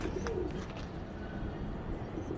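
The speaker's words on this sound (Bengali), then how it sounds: "অনেক সুন্দর কবুতর" Soft, low pigeon coos murmur faintly against a quiet background, brief and gentle.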